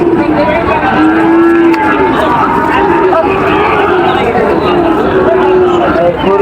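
Shahiwal bulls moo with long, drawn-out lows at a cattle market in Joypurhat, with several calls over the constant chatter of the crowd. People talk throughout.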